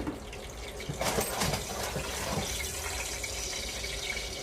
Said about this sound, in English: you can hear the sizzle coming off of it